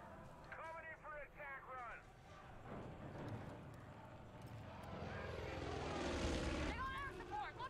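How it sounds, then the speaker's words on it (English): Enemy propeller plane in the video game Far Cry 5 drones and swells louder toward the end, passing close overhead, with game voices talking over it. "That plane is gonna rip us to pieces."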